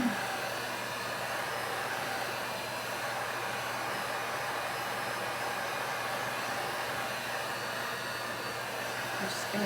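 A hair dryer blows continuously up close while drying chalk paste on a t-shirt, a steady even hiss-and-whir with no breaks across the whole stretch.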